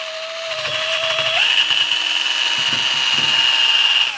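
A small improvised sanding machine whines steadily at a high pitch, rising once in speed early on and holding a continuous buzzing drone with faint rasping underneath.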